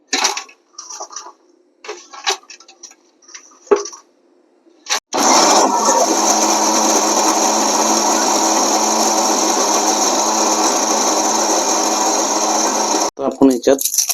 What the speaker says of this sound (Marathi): त्याला वाटप करून घेऊया आपण मिक्सर मध्ये टाकून